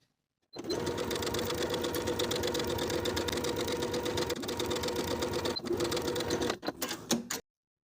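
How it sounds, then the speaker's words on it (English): A sewing machine runs close and steady, its needle clattering rapidly as it edge stitches along the folded placket of a women's top made from fabric scraps. It stops with a few short bursts of stitching at the end. "Now we're going to edge stitch close to the inner folded edge from the top"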